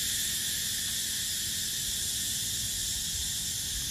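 Cicadas in trees on a hillside of sea-view land on Samui, Thailand, hold a steady, loud, high buzzing drone that stays unbroken throughout with no talk.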